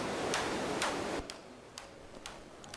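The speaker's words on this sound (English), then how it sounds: "Now it starts sounding like something click-like." Sharp synthetic clicks made with the 4klang synthesizer repeat at a steady pace over a hissy noise bed that drops quieter partway through.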